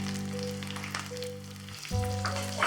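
Small onions sautéing in oil for a Chettinad fish curry give a faint, steady sizzle with soft crackles, fairly quiet, with no voices.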